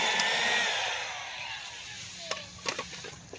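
A heat gun blowing on butyl ribbon to refit the vapor barrier on the rear passenger door of a BMW E83 X3, a steady close airy whoosh that fades slightly, followed by a few light handling knocks.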